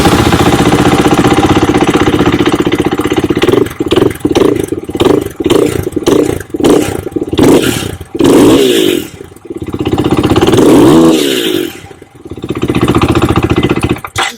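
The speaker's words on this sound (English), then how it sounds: "It started pretty easy" A KTM or Husqvarna motorcycle engine that has been losing power and bogging under load starts, then revs repeatedly in sharp bursts and drops back to idle, loud and close with no voices.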